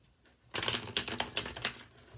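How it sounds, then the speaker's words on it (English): Tarot cards are shuffled, a soft burst of rapid riffling clicks that starts after a quiet half second and carries on with uneven rhythm, close and faint, with no voices. "we'll just shuffle those back in again"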